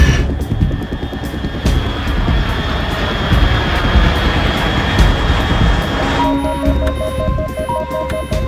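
In the Metal Gear Solid 3 video game, an aircraft passes overhead with a loud, continuous roaring jet rush and a few sustained whining tones that shift near the end, with no speech.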